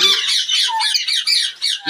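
Pet parrots in a breeding setup give a run of loud, harsh, repeated squawks close by, one after another with short gaps, and no talking over them.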